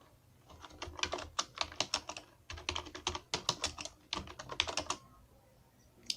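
Typing on a computer keyboard while writing HTML, with quick bursts of close, crisp key clicks separated by brief pauses.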